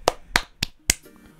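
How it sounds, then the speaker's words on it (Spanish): Four sharp hand claps, evenly spaced and close by, followed by a quiet pause. "aplausos."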